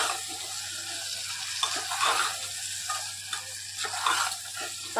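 Fried ivy gourd (tondli) being stirred through a masala in a pan, with a steady low sizzle and repeated scraping strokes of a spoon across about five seconds, fairly close and with no voices.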